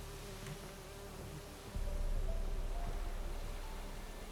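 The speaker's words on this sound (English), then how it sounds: "A swarm of bees has attacked you." A swarm of bees near a beehive in the Witcher 3 video game, a continuous close buzzing drone that grows louder partway through and then holds steady.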